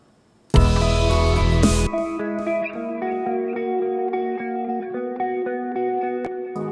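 A clean electric guitar plays a steady, chiming pattern drenched in echo and chorus, following a brief loud burst at the start.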